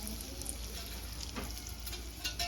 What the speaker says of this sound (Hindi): थोड़ी सी हींग डाल रहे हैं घी में.